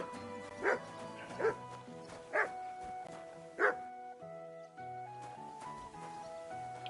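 Dogs bark several times in the video game Kingdom Come Deliverance 2, four distinct barks spaced about a second apart over a musical background, fairly faint and at middle distance.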